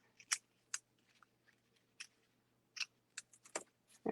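Scissors trim thin baker's twine in a quiet room, giving a handful of faint, sharp snips and clicks spread irregularly across the moment.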